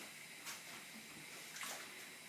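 Water boils in a pan with green beans added, making a soft, even bubbling hiss throughout, with no voices.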